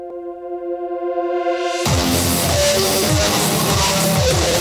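A synthesized riser swells and brightens at the start of a song, building for about two seconds before the full band mix with drums crashes in and carries on loudly.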